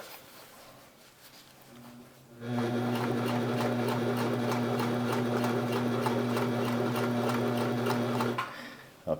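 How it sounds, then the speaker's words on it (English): A Sears Kenmore sewing machine starts up and sews zigzag stitches in a steady, fast rhythmic whir, close and loud for several seconds before stopping. "I'll just go ahead and run those stitches right now."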